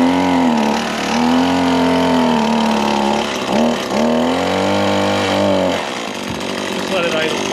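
A small pull-start engine runs loud and close at a steady idle, with a brief dip and recovery midway before settling into a slightly lower drone.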